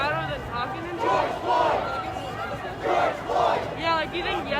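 A protest crowd marching through downtown Minneapolis yells and chants in loud repeated bursts, the massed voices rising and falling close by with chatter between the surges.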